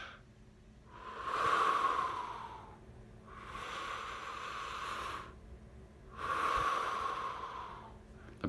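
Slow, close breaths from a person, three long drawn exhalations or inhalations separated by short pauses, soft and steady with no talking.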